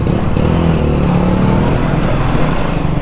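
A KTM Duke 250 motorcycle being ridden and accelerating, its engine a loud, steady drone that continues throughout with no pauses and no voices.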